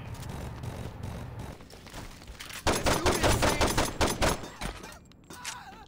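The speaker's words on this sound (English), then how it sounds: "They shooting out there." Rapid bursts of gunfire in the video game Saints Row 2, quieter at first, then loud sustained volleys of overlapping shots before tapering off.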